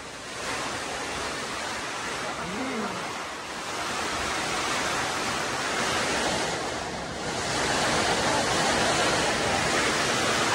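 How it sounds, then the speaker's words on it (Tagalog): Loud, continuous roar of heavy rain and gusting wind on a mountain, a dense wash of noise that swells and surges without a break. "Lakas po ng hangin, tsaka ulan."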